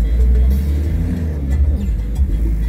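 A car fitted with a motorcycle-taxi engine running, giving a steady, loud low rumble and engine drone from up close throughout, with no voices heard.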